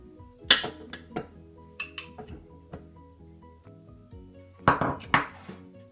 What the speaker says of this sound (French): Je place le fouet à l'intérieur du Thermomix pour battre le beurre, puis je mets mes morceaux de beurre dans le bol.